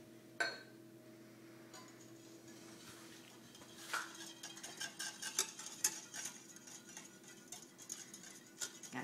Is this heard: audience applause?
no